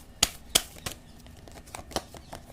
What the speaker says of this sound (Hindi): एक कार्ड और निकालते हैं